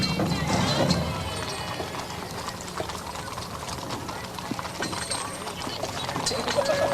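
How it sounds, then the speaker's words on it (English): Horses pull a carriage at the Tucson Rodeo Parade in 2006, their hooves clip-clopping steadily on pavement amid crowd noise while commentators talk over them. "These are some beautiful horses, too."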